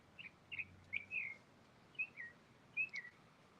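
A few birds sing scattered short whistled phrases, soft and somewhat distant, with quiet ambient noise between them, beside Coffee Pot Bayou in St. Petersburg, Florida.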